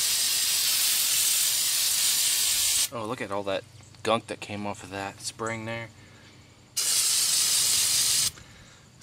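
An aerosol can hisses loudly in two long sprays onto a Pontiac Aztek rear wheel hub, separated by someone talking in the pause between them.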